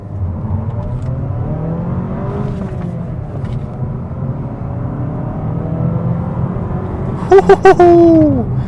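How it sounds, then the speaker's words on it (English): A 2025 Mazda 3 Premium pulling away from a stop, a steady engine hum and rising rev heard from inside the cabin, moderately loud, ending with a few sharp clicks and a brief high tone. "Probably a good opportunity to actually try one out off the line."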